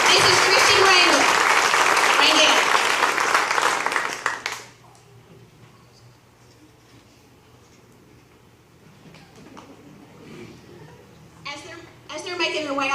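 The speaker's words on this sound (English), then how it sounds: "Let's give him a big round of applause." A crowd gives a prize winner loud, dense applause for about four seconds, then it drops away and a voice speaks over faint room noise.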